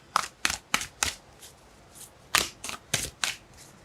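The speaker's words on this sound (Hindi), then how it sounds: "One more shuffle." A deck of tarot cards being shuffled by hand, about a dozen crisp riffling bursts in an uneven rhythm, close and clear without talk.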